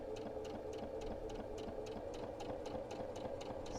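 A sewing machine runs steadily while stitching a seam, with a fast, even mechanical whir and regular ticking needle strokes throughout, moderately close and without talk.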